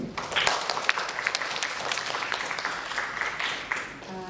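An audience at a symposium session on vernacular design bursts into sustained applause for a speaker, a dense crackling wash of many hands clapping steadily throughout with a faint voice underneath.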